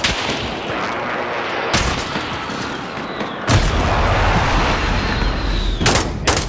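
An enemy precision airstrike in Call of Duty: Modern Warfare hits as loud, booming blasts and rumbling detonations. Heavy impacts land near 1.7, 3.5 and 6 seconds over continuous roaring noise.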